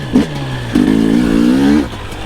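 A two-stroke dirt bike engine idles close by, then briefly revs up into a buzzy rising drone before dropping back to a low idle.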